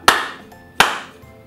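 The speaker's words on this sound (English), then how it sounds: "You clap. You clap. You clap." Two sharp, loud claps about two-thirds of a second apart, each ringing briefly in a room, with no talking, from a take on a real estate company's blooper shoot.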